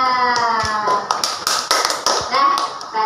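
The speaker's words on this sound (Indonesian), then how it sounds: "bisa tepuk tangan buat Elisa" A classroom of students clapping for a classmate, a short burst of several quick claps over a voice speaking.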